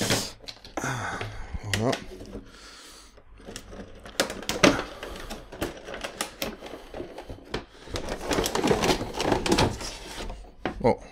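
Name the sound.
opening a Bioshock Infinite collector's edition box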